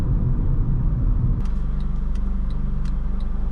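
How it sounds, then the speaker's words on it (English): A 2009 Honda Accord LX drives along with a steady low engine rumble. Its tone shifts a little partway through, and faint ticking sounds over the top. No one speaks. "I do want to hear more of the VTEC and the roar."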